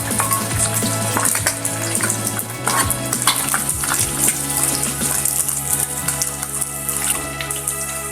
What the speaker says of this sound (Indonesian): saya masukkan dulu ini bawang merahnya sama bawang putihnya ya, ditumis dulu